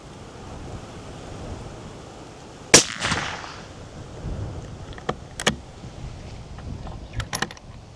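A .338 Lapua Magnum rifle fitted with a Can Co suppressor fires one sharp, muffled report outdoors, followed by a brief fading tail and a few faint clicks and rustles.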